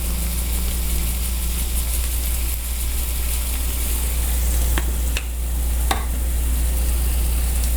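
Garlic and red pepper flakes cook in a pan over medium heat, making a steady sizzle beneath a constant low hum, with a few sharp clicks near the end and no talking.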